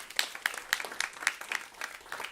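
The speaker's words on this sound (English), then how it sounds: "Give that a round of applause." Brief, sparse clapping from a small audience at a talk on food systems, with a few distinct claps in a loose rhythm.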